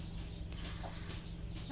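Backyard chickens cluck softly and intermittently at home, faint repeated calls over a low steady background hum.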